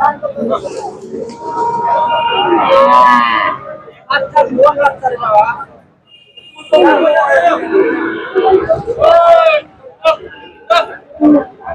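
Holstein Friesian bulls moo amid loud talking and crowd noise at an outdoor cattle market in Dhanbari, the lowing calls mixed in with several voices.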